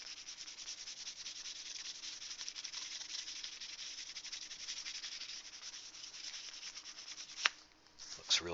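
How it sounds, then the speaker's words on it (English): Steady hand sanding of a scale model car hood, a continuous close rasping rub that runs evenly for several seconds before a couple of brief knocks near the end; no talking. "Just give this a quick sand."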